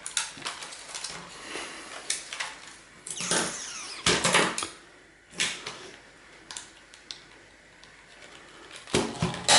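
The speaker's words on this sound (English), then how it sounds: "Just remove any screws we see while we're going." Screws come out of a vintage 1980s camera with small tools, giving irregular close clicks, scrapes and rattling plastic and metal between short quiet gaps, and no one talks.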